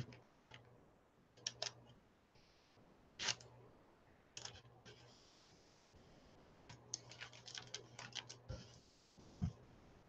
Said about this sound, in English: typing in the dark